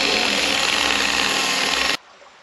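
A power polisher runs steadily on boat parts, a loud, dense and close whir that stops abruptly near the end.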